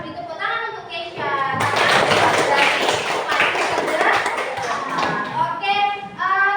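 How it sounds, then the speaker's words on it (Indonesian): A school classroom of children breaks into brisk, close applause that lasts several seconds, with a teacher's voice speaking just before and after the clapping. "kita beri tepuk tangan untuk Kesha"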